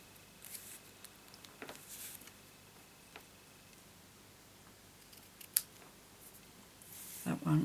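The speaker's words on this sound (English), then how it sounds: "And then I want to trim my ribbon so that it's just about on here." Scissors trimming a ribbon for a paper craft card, a few quiet snips and small clicks in a hushed room, with one sharper cut and soft handling noises.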